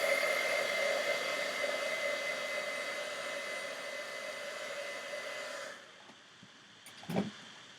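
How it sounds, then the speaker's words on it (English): A handheld heat gun blows steadily at a craft table, a loud continuous whooshing whir that runs for several seconds, then cuts off, leaving a brief quiet tail with a small knock. "Keep reaching for my glue gun instead of the heat gun."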